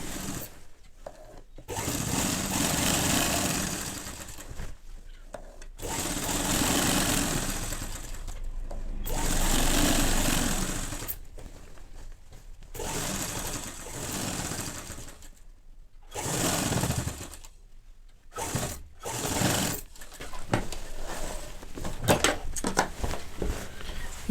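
A sewing machine runs in bursts of stitching along a French seam on a shirt side, loud and close. Short pauses separate the runs, and there is no talk.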